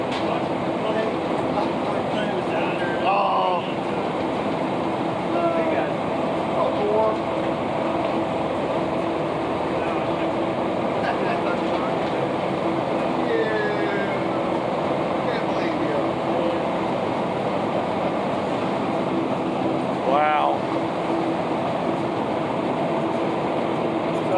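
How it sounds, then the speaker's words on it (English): An underground mine conveyor belt runs at a belt transfer point, making a steady, loud mechanical rumble and rattle throughout, with occasional brief squeaks. "Just a belt transfer point here."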